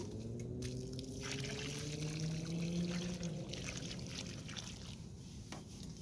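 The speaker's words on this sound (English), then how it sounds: "we're going to pour some more water in" Water pours from a container into a 25-gallon fabric grow bag of soil being prepared for carrots, a soft, steady trickling stream that runs for about six seconds, quiet and close, with no talking.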